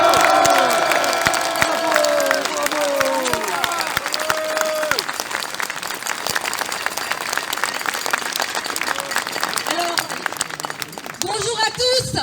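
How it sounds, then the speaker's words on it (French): Large outdoor rally crowd at an anti-lockdown freedom protest giving a thunderous round of applause with cheers and whistles, sustained clapping over crowd voices and shouting for about twelve seconds. "Je vous prie de faire un tonnerre d'applaudissements pour Ouba."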